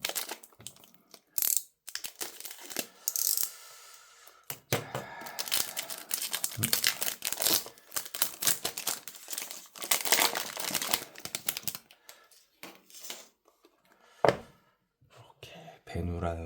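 Plastic wrapping crinkles and crumples as it is pulled off a packaged BENU Euphoria fountain pen made in Armenia, bursts of close rustling and tearing coming in irregular waves with brief pauses.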